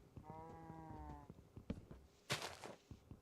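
A cow in Minecraft gives a drawn-out, tonal moo near the start, followed by scattered soft thuds and footsteps and a brief noisy burst.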